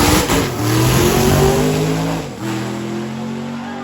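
Drag racing car launching down the strip, engine roaring loud and close as it revs up through rising pitch, then shifting and pulling away with a sustained drone.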